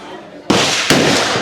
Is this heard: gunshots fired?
yes